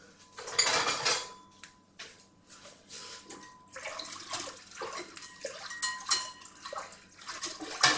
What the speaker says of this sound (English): I'm going to grab a whisk. I find a whisk works really well for this.